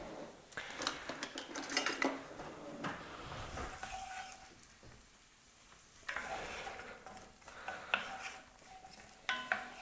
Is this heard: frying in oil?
yes